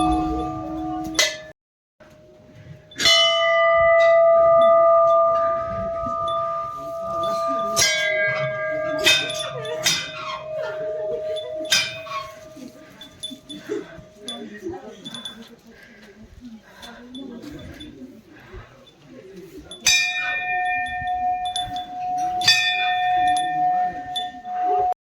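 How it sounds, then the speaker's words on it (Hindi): A brass bell at the Golu Devta temple in Nainital is struck several times, each clear metallic ring ringing out and fading. Voices and crowd noise murmur around the strikes. "ये रही हमारी घंटी"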